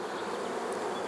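Honeybees buzz steadily and close during an open top bar hive inspection, a dense continuous drone with no voices.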